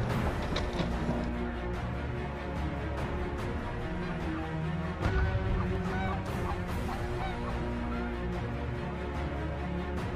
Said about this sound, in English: we got geese on the horizon.